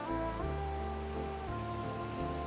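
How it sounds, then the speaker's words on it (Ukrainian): Light rain patters in the farming game Farming Simulator 22, a soft steady hiss over a low droning tone, continuous and unvoiced for the whole stretch. "Дощик невеликий."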